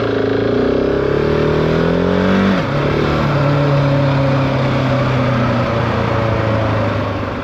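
A GasGas ES 700 motorcycle engine runs steadily, with a pitch that climbs, then drops abruptly, then holds at a lower steady drone, loud and close with constant wind noise.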